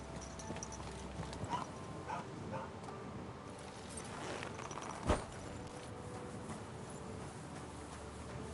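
A dog barking in Kingdom Come: Deliverance 2, fairly faint yips and barks mixed with hoofbeat-like clopping and a sharp click midway, no speech.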